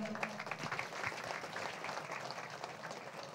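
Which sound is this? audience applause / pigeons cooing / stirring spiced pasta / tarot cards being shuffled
audience applause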